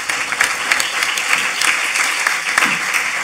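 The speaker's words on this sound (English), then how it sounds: "I think we should give them all a round of applause" Audience applause for the organizers at an advocacy talk event, a dense, steady burst of clapping from a crowd, loud and close, running throughout with no voices on top.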